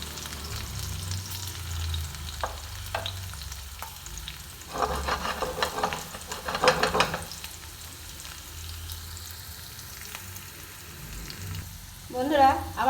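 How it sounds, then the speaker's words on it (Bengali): Chopped garlic and a bay leaf frying in hot oil in a pan, a soft steady sizzle with louder bursts as the pan is stirred and scraped. "সব ভালো মতন ফ্রাই করে নেব।"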